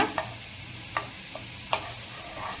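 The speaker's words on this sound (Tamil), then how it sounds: "இப்போ நல்லா அந்த பட்டர் மெல்ட் ஆகிட்டு இருக்குதுங்க" Butter melts and sizzles in a pan for restaurant-style butter tikka masala, a soft, steady frying hiss broken by a few sharp scrapes of a stirring utensil, with no voices.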